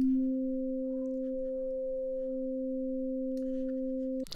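A sustained sine-wave tone from a Massive synthesizer with ring modulation, two steady pitches stacked together, hums evenly for several seconds, then cuts off with a short noisy burst.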